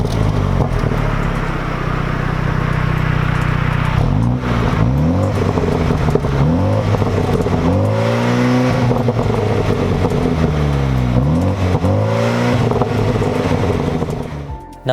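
A new BMW M135i accelerating, its engine note sweeping up through repeated rising gear pulls with brief dips at the shifts, loud and close throughout with steady road roar underneath.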